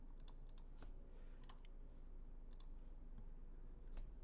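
Quick bursts of typing on a computer keyboard, light clicking keystrokes in irregular clusters, very quiet and close with no talking.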